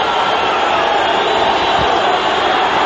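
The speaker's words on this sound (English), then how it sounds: "Crowd trying to lift their man" Arena crowd at a boxing match between Tapia and Danny Romero roars steadily, a loud, dense, unbroken wall of cheering and shouting from a large audience with no distinct single voices.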